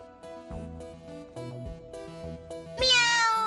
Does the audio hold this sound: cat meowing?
yes